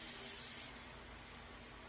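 A hair spray bottle hisses in one steady burst, close and fairly loud, used to tame flyaways while braiding hair.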